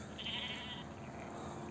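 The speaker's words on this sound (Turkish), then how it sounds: "Kuzular, koyunlar, keçiler karışık şekilde küçükbaş hayvanlar yayılıyor" Mixed flock of sheep, lambs and goats grazing outdoors, with a single bleat rising faintly from a distance over steady open-air background noise.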